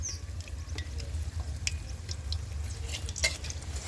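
Cauliflower pakoras deep-fry in oil with a soft, continuous sizzle, broken by faint clinks and stirring noises.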